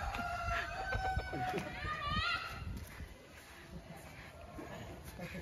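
Silkie chickens cluck and a rooster crows among them in a busy, noisy backyard, children and adults chattering over the birds throughout.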